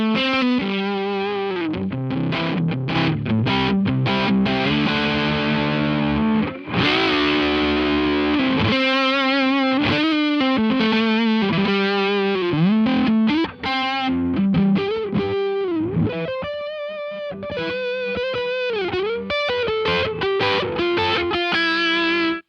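An electric guitar played through a Mozztronics TD-1 Tube Driver pedal rings out with overdriven, sustained chords and single notes, loud and continuous with brief pauses between phrases.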